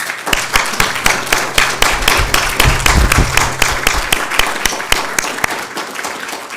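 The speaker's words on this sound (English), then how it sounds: "I think Matthew requires a huge round of applause" Lecture audience at the inaugural lecture of Professor Matthew Chersich applauding, a loud, steady round of many clapping hands lasting several seconds with no speech.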